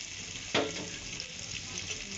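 Cumin paste and ginger paste hit a hot pan with a sudden sizzling burst, then a soft steady frying hiss with faint scraping as the pastes are stirred.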